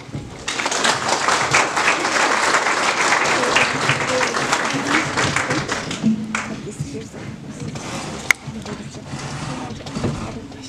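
Applause breaks out at a wedding ceremony, dense clapping for about six seconds that thins into scattered claps, a sharp knock and faint voices.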